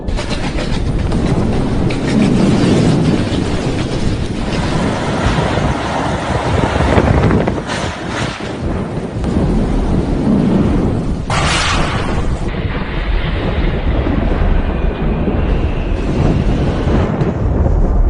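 Cyclone Amphan striking coastal West Bengal and Odisha, a continuous loud roar of storm wind and rain with heavy rumbling gusts throughout, dense and unbroken, no voices.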